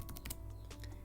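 Typing on a computer keyboard while entering a word into a Microsoft Excel 2013 cell: a short burst of quick, light key clicks close up, then a few more taps after a brief pause.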